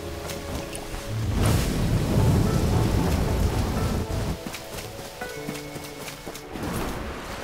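Steady rain hisses through a video game scene while low thunder rumbles swell and fade, loudest in the middle, with scattered sharper crackles on top.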